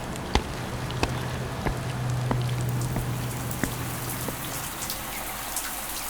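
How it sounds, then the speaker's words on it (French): Light, fine rain falls steadily in a soft continuous patter, with scattered sharper drops landing on surfaces throughout and no voices, as a radio drama sound effect. "La pluie s'était calmée, elle était de nouveau fine."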